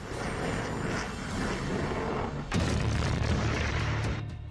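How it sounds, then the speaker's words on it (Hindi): A missile launch amid the Russia–Ukraine war, heard as a sustained roaring rumble with a sharper booming surge partway through, loud and continuous with no talking. "चौथी मिसाइल, और फिर निकली पांचवी मिसाइल।"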